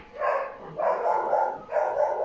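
A dog barks upstairs in a house during a Spanish-language Bible reading, three short bursts of muffled barking spread evenly across the moment, somewhat distant and moderately loud.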